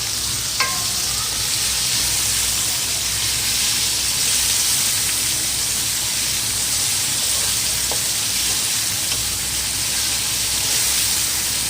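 Boneless chicken frying in oil in a pot, a loud, steady, dense sizzle that stays constant throughout, with a couple of faint clinks near the start and no talk.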